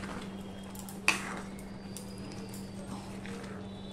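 Dalia being stirred in a kadai: one sharp metal clink from the spoon against the pan, then faint scraping, over a steady low hum.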